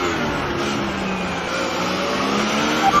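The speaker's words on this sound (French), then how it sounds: "Ben Maki, voilà, qui s'est planté." A Formula 1 race car in a racing video game at Monaco skids and crashes, with a loud sustained engine whine and tire squeal that runs continuously, and a brief sharp screech near the end, without any talk.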